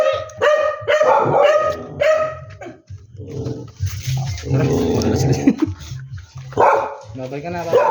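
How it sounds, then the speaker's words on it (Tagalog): A big dog barks in loud, deep bursts close by, repeated over several seconds, with people talking around it. "Malaking aso."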